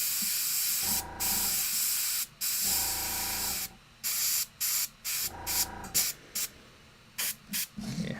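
An airbrush sprays paint onto Warhammer 40k Kill Team miniatures in loud hissing bursts, a few long blasts followed by a rapid series of short choppy puffs with brief silences between, no voices.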